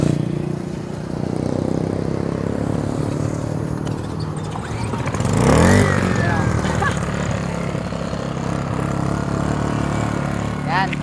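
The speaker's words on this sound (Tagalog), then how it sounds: "paandarin muna natin itong genset natin" A small 1000-watt portable genset engine runs steadily close by throughout, a constant droning hum with a brief louder surge midway, while people talk over it.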